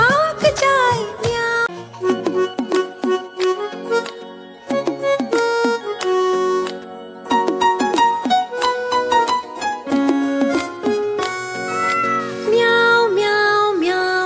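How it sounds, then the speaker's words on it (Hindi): Repeated meows ring out over a lively, cheerful Hindi children's cartoon song with rhythmic beats, continuing through the whole stretch of music. "बिल्ली करती म्याऊं"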